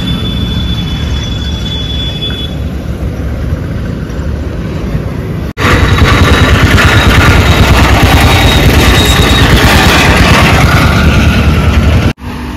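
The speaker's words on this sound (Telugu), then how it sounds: "చూసిరా కంపెనీ బస్సులు కానీ బైక్ల మీద కానీ ఇట్లా డ్యూటీలకు వెళ్ళే వాళ్ళు వెళ్తూనే ఉంటారు" Traffic of motorcycles and company buses carrying workers to duty in an industrial area at early morning, heard as a steady rumbling roar of passing vehicles that grows louder midway, with a faint high whine early on.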